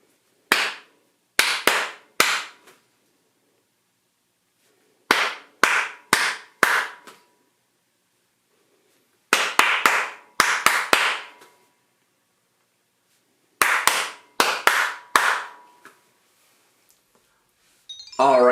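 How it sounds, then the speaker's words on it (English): Hands clap short rhythmic patterns in four separate groups of three to five sharp claps, with pauses of silence between them, close and crisp with no talking. "I'll clap a rhythm, listen to it, and you just try to copy as best as you can."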